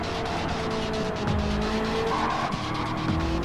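Race cars drift through a corner at a Ferrari Challenge Series event, tires squealing and skidding over a constant loud engine roar, with engine pitch sweeping up and down as several cars pass close.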